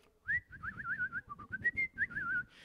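A preacher whistles a short, bright, wavering tune, imitating someone whistling as they walk in, with quick trilling notes over a faint room murmur.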